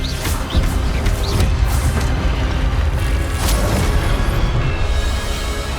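A spell cast in the video game Hogwarts Legacy, a loud, sustained magical blast with booming low rumble and crackling bursts that fills the whole stretch without pause.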